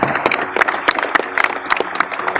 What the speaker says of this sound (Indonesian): Tepuk tangan buat Rosan ya.